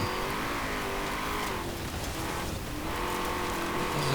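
A V8 engine on a 1969 International-Harvester Loadstar off-road build in a video game, droning loudly and steadily with rising and falling revs throughout, no talking.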